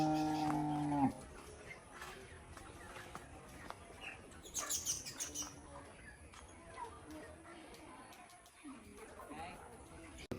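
A cow at a cattle market in Sirajganj, Bangladesh, lets out a short, loud moo at the start, followed by quieter outdoor background with faint birds chirping and distant activity.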